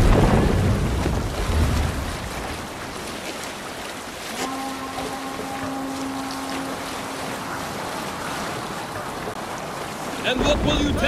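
A sailing ship moves across open water in an Assassin's Creed video game, a steady rushing wash of waves and wind with a brief sustained tone in the middle and faint voices near the end.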